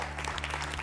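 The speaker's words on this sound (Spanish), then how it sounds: "¿Aplaudimos?" Audience applause on an Argentine TV cooking-competition set, a short even burst of many hands clapping at a steady level.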